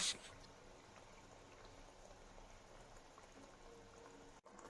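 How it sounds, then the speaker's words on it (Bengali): Fish curry gravy bubbles steadily in a pan for a Bengali doi pabda, a faint continuous simmering with no voices over it. "ঝোলটা এবার টকবক করে ফুটে এসছে"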